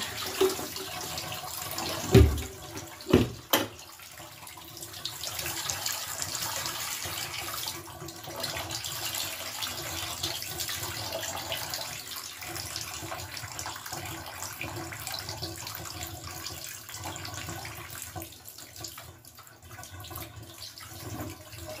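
Water runs steadily from a tap into a bathtub while fleece is washed, a continuous close splashing flow with a few knocks and clunks near the start.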